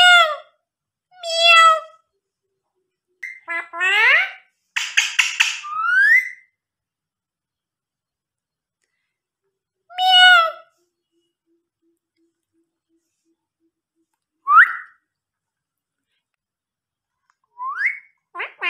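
A talking parrot mimics a cat's meow in a series of short, clear, rising meow calls spaced across the recording, some in quick pairs and others alone with quiet gaps between them.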